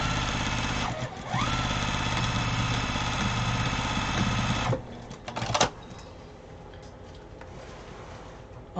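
A sewing machine runs steadily while stitching fabric for a briefcase. It holds a continuous mechanical whir for about five seconds, pauses briefly near the start, then gives a few clunks and falls to a quieter hum.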